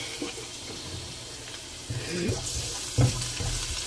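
Garlic sizzles in a hot pan for Filipino menudo, a soft continuous frying hiss with a few brief louder spits and stirring bumps, close and steady.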